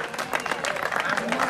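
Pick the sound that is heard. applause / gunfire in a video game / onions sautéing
applause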